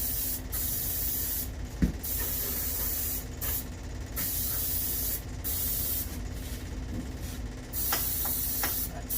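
Satin finish sprayed from an aerosol can onto an artificial skull for a European horn mount, a steady close hiss running in several bursts with brief pauses between them.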